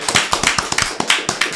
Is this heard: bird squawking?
no